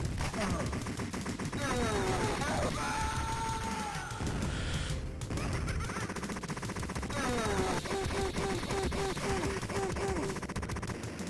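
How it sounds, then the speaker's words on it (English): Arcade game Total Carnage, with a semi-automatic rocket launcher firing rapid, dense volleys of gunfire-like blasts mixed with explosions and chiptune music, continuous and loud throughout. "Using a semi-automatic rocket launcher again."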